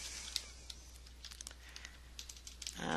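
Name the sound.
typing on a computer keyboard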